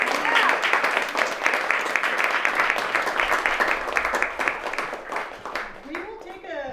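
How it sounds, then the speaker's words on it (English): An audience at a live talk event breaks into a burst of applause, many hands clapping loudly and densely before it tapers off and a voice begins speaking. "Can we give them one more round of applause?"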